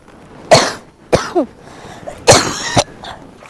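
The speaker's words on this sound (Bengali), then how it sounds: "বুঝলাম না, আপু কাশতেছে কেন?" A woman in a park coughs close by in several separate dry bursts, some in quick pairs, with quiet gaps between them.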